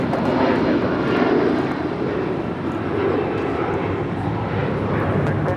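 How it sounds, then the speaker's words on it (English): A United Boeing 757-200 departing Los Angeles LAX for Newark gives a loud, sustained jet engine roar that swells early, dips briefly and then holds steady throughout, with no talking. "This is United 2072 taking off to Newark on a 757-200"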